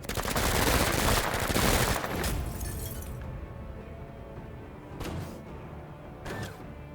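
Rapid gunfire from the video game Menace rattles out in a dense, loud burst, then tapers into a few sharp isolated shots with quieter gaps between them; no voices.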